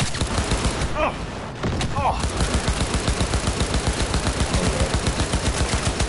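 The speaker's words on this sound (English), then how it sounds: "He's shooting me." Rapid bursts of automatic gunfire aimed at the player in Cyberpunk 2077, loud and continuous with a brief lull, while a player exclaims over it.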